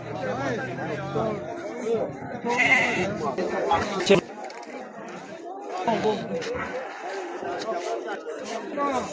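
Young male lambs bleat repeatedly at the Maştağa sheep and goat market, many calls overlapping with a crowd's chatter and nearby voices throughout.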